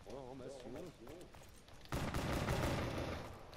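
Weapon fire in Black Ops 3 zombies mode, a loud sustained burst of shooting that follows someone talking, filling the second half of the moment.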